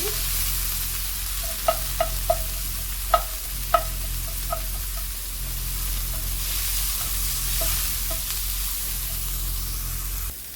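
Fresh frozen coriander sizzles and fries in a warm pan, a steady close hiss broken by a few sharp crackles and pops early on, with no one talking.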